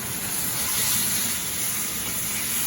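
Beef strips stir-fry in a hot pan at raised heat, giving a continuous, even sizzle and hiss close by, steady in level with no talking.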